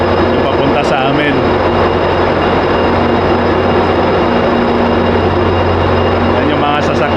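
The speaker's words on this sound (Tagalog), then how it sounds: "Yan yung mga tren guys dito. Tinatawag na Metra." A Metra commuter train rumbles past at close range, a loud steady roar with a low engine drone that holds for the whole stretch, with brief faint voices near the start and end.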